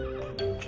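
A horse in the Minecraft Mo'Creatures mod gives a short, bright neigh, loud and close, rising in brief bursts over a quiet game background.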